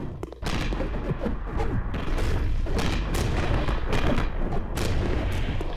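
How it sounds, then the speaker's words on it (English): Video game explosion effects from a space battle with ships and weapons fire, a dense continuous rumble of booms and blasts layered together, loud and sustained without pause, no voices. "I've also done some work to the explosion sound effects to quiet it down somewhat."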